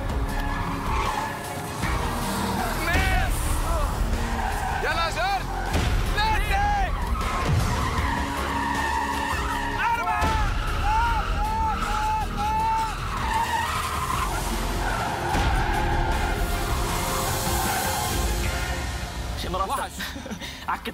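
A drifting car at a drift driving challenge, tires skidding and squealing in repeated wavering bursts over a rumbling engine, loud and continuous, with people talking and voices around it.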